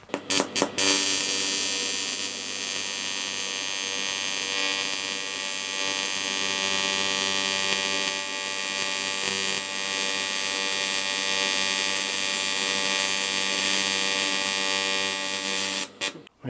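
A broken motorbike footpeg is welded for repair with one continuous close buzzing weld lasting about fifteen seconds, starting and stopping abruptly. No voices.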